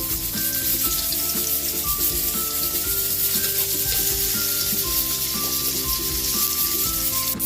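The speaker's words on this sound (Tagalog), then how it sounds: "Siyempre, sabay na natin yung bawang. Lagay na rin natin yung ating onion," Garlic and onion sauté in hot oil, giving a loud continuous sizzle with scraping stirs throughout and no voices.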